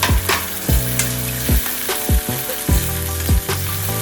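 Green chilli thecha sautéed in a pan: a steady sizzle broken by repeated sharp spatula knocks and scrapes against the pan, roughly twice a second, close and clear.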